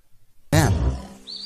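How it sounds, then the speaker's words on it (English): A tiger roars once in a children's cartoon, a loud, close, growling burst that trails off after about a second, following a faint lead-in. "T for tiger."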